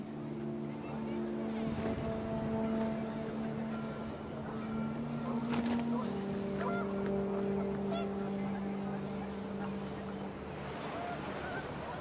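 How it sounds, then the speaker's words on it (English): Panicked geese honk in the video game What Remains of Edith Finch, a steady run of horn-like calls over a loud, constant wind-and-water bed that continues for the whole stretch. "The wind picked up, and panicked geese appeared and quickly went."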